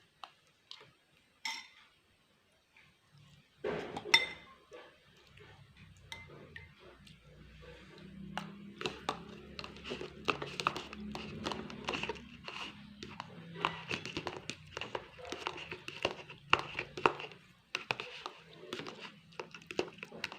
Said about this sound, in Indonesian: kita haluskan dulu nasi dengan menggunakan sedikit air